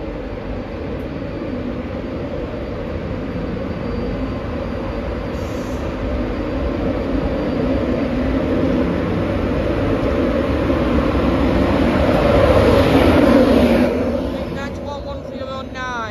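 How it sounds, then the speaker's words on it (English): An LNER Intercity 225 train pulls out of Doncaster station, a steady rumble of wheels and carriages building gradually before a brief squeal and sudden fade, with a platform announcement faintly heard above. "Next out, the 13:05 LNER Intercity 225 service from Leeds to London King's"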